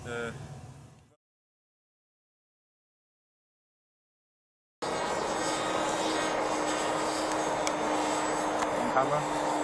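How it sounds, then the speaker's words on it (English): A model airplane engine drones steadily and loudly after a silent gap as it flies past over a field, a continuous buzzing hum that holds close by. "waiting for his plane to fly past."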